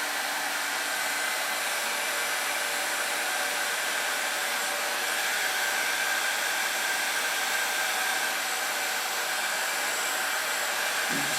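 A hair dryer blow-drying hair runs as a loud, steady, unbroken airy whoosh with a constant motor whine, no voices over it.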